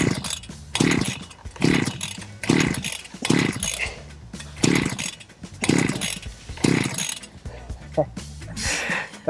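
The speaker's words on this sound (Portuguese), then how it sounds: "A gente vai passar agora uma roçadeira aqui no mato aqui para poder dar uma baixada" A brush cutter works through tall grass and overgrowth, its engine revving up and dropping back in regular surges about once a second. Between the revs it snarls loudly at close range.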